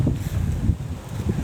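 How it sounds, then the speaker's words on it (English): Gusty wind buffets the microphone in beech woodland, a loud low rumble that swells and dips unevenly with a faint rustle of leaves. "It's quite windy here again today."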